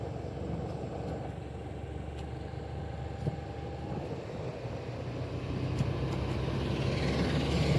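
A car travels at speed under a cloudy sky, giving a steady, continuous interior rumble of road and engine noise that swells slightly toward the end, with no voices.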